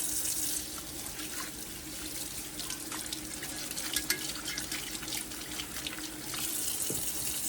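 Tap water running steadily into a sink while a laser-etched tumbler is rinsed of soap and soot, a close, continuous gush with small shifts as the cup moves under the stream.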